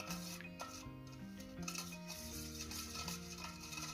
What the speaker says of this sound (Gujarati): હવે આપણે એને સારી રીતે મિક્સ કરી લઈશું.